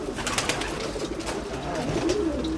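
Homing pigeons coo inside a pigeon loft, several birds cooing in soft overlapping rolls over a steady rustling background at moderate closeness.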